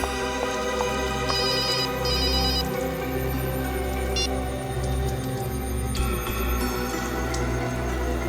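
A telephone rings in short repeated electronic bursts during a tense scene from a CID crime drama, set over a low sustained musical drone with no voices.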